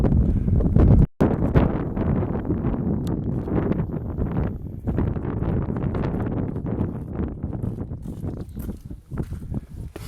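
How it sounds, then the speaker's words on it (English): Wind buffets the microphone in gusts while someone climbs a steep, near-vertical trail, with scuffing footsteps and rustles underneath the blustery roar. "Too much wind."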